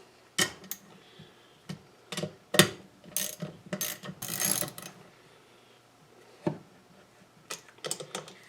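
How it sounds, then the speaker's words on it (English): Connecting rod bolts on a small engine being torqued with a ratchet, making bursts of quick close clicking ratchet strokes, some long and some short, separated by brief pauses, with no talking. "So now I'm going to torque these connecting bolts down."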